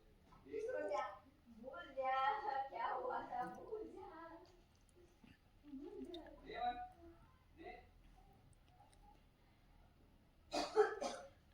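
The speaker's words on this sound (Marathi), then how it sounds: "खूपच खोकला येतो" A person coughing in a home kitchen while a vegetable dish is mixed, with several harsh coughs mixed in among voiced sounds and one sharp burst near the end.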